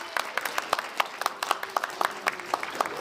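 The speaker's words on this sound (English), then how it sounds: "Give yourselves a big clap." Children in a storytelling audience clap in a loose, uneven patter of separate sharp hand claps, fairly close and moderately loud, lasting a few seconds.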